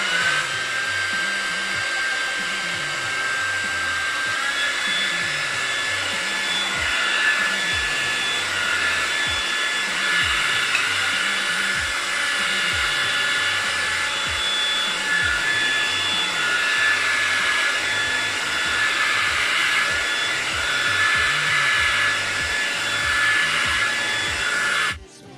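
Hair dryer blowing steadily on medium heat, a loud, continuous airy whir with a constant motor whine that holds unbroken for about 25 seconds before cutting off abruptly at the end.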